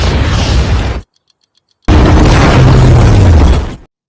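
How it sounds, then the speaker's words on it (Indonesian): A factory blows up in an action film: two heavy, loud explosion blasts with roaring rumble, the first lasting about a second, then a brief silence before a longer second burst that fades out. "memutuskan untuk meledakkan pabrik itu bersama dirinya"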